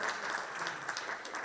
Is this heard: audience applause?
yes